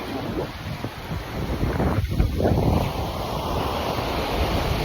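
Sea waves washing onto a beach, a surging roar that swells midway, with wind buffeting the microphone throughout.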